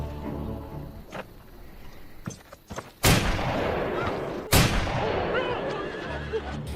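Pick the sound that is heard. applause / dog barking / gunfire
gunfire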